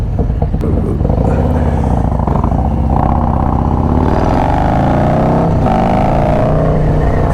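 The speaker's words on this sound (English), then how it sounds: "Sandy's got the Lowrider ST with the Dirty 30 cam in it." Harley-Davidson Low Rider ST with a Dirty 30 cam and a Sawicki 2-into-1 exhaust, idling and revving in a steady deep rumble up close and loud throughout, with faint voices underneath.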